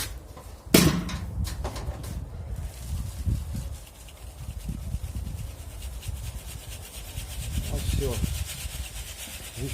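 Crushed bee bread shaken and rubbed through a finer sieve, a steady gritty rustling and scraping that runs continuously at close range after a sharp knock near the start.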